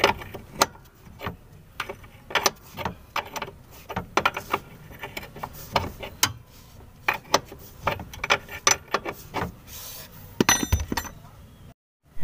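Tightening the clutch master cylinder on a Hino Profia F17D truck gives irregular sharp metallic clicks and clinks at close range, in uneven bursts with brief pauses between them.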